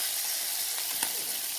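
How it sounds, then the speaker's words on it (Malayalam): Fish, mangada, sizzling as it fries in a pan, a steady close crackling hiss with no talk. "ഞാൻ എൻ്റെ മീൻ വറുത്തെടുക്കട്ടെ."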